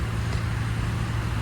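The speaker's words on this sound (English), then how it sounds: "Can you hear the nice noises of the truck rest stop?" Engine rumble and traffic hum at a truck rest stop in the early morning, a steady low drone with no distinct events, close and continuous.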